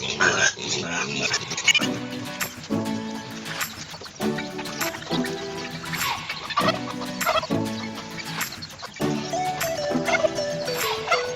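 Fattening piglets on their third day feed noisily at breakfast, with loud overlapping grunts and squeals and rhythmic chomping repeating throughout, while birds cluck and crow nearby.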